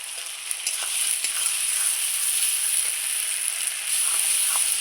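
Chopped tomatoes frying in a pan for a duck egg dish, a steady loud close sizzle with small crackles and stirring scrapes throughout.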